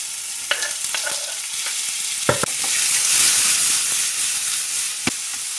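Pork chunks fry and brown in an oiled pan, a steady close sizzle with scattered clicks and scrapes of stirring, swelling slightly midway; no one speaks.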